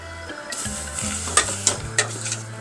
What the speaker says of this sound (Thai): แล้วก็จะคั่วแบบให้มันหอม